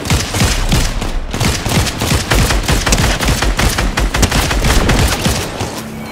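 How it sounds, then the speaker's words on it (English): Dense gunfire in a Fortnite match, a loud sustained barrage of overlapping shots and bursts with a brief lull near the one-second mark before the shooting resumes just as heavily. "he's shooting crap at us, be careful"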